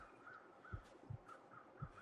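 Crows cawing in The Long Dark, three or four short harsh caws spaced apart over faint wind-like ambience, somewhat distant and quiet, no voices.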